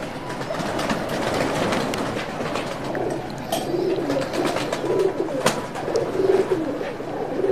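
Pigeons of the Teddy breed calling at a loft during a pigeon-keeping interview, soft repeated cooing notes over a steady background rumble, with a louder burst of cooing toward the end.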